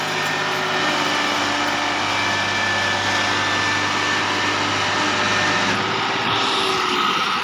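A tractor engine labours uphill in a steady, loud drone with a constant low hum and a whining upper tone, continuous throughout with no talk.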